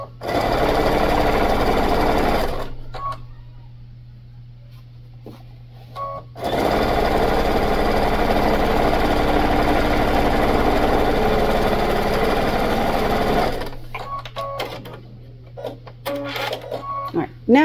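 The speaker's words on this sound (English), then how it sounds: "And backstitch over that seam conjunction." A sewing machine stitching and backstitching across a bag seam junction, two long runs of fast, loud mechanical whirring separated by quieter pauses with fabric handling, resuming briefly near the end.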